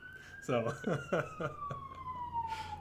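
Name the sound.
emergency siren outside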